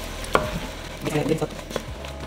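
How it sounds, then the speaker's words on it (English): A spoon stirs and scrapes tomato sauce across a pan bottom to deglaze browned beef neck bones, giving soft clinks and wet scraping over a low sizzle, with no talk. "I'm gonna just mix a little at first just so I can deglaze the bottom."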